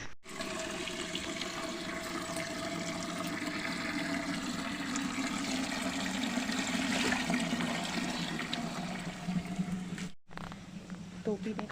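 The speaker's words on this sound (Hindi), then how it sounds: "तो पीने का पानी भरना है मुझे।" Drinking water runs from a tap in a steady, close stream for around ten seconds, briefly cutting out near the end before resuming, with faint voices in the background.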